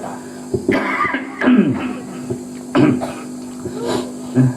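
Several short coughs and throat-clearing sounds break out at uneven intervals, close by, over a faint steady hum.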